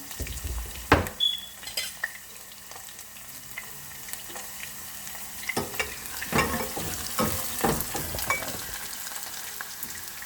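Onion, garlic and ginger sauté in a pan for adobong okra, a soft sizzle broken by sharp scraping stirs and clinks of utensil against cookware, close and intermittent.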